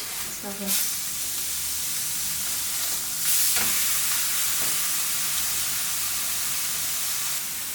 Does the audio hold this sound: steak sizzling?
yes